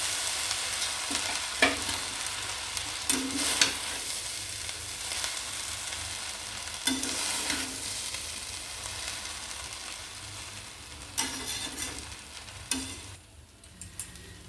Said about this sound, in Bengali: কড়ার মধ্যে ভালো করে সবজিগুলো ঘি দিয়ে গরম করে এভাবে নাড়াবো